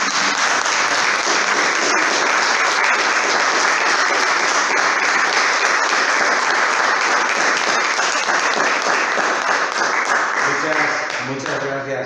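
A room full of people applauds at a book presentation for "La metáfora del mirlo" in Béjar. The clapping is loud and dense for about eleven seconds, then thins out as a voice starts speaking.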